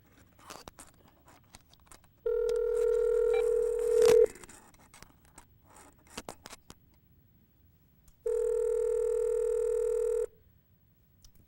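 A telephone plays two sustained dial-tone bursts separated by quiet, with faint clicks and rustles of handling around them, close and clear with no speech.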